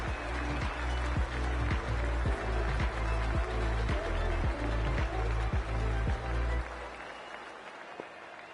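A large crowd at a cricket ground during a Pakistan vs Sri Lanka T20 match roars and claps in a dense, continuous wash with rhythmic thumping beats, then drops off sharply near the end to a quieter murmur.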